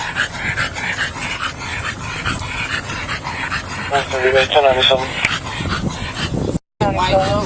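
A dog left in a hot car yips and whimpers in short high bursts during a heated roadside confrontation, heard close by under loud overlapping talk between several people.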